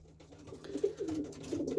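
Racing pigeons sitting on eggs coo softly in a loft, low throaty murmurs rolling on and off, faint and close, with no voices.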